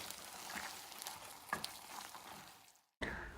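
Ven pongal with roasted cashews being stirred in a pot, a soft continuous sizzle with a few spoon scrapes and clinks near the middle, a brief drop to near silence, then the sizzle resuming loudly.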